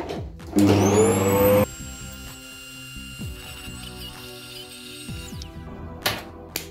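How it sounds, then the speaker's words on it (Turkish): A vacuum cleaner whirs loudly for about a second inside a Dark Diamond Pro gaming PC case, then cuts out, leaving quieter scattered clicks and bumps and a brief final burst. "Hemen elektrikli süpürgeyle onu almak istiyorum."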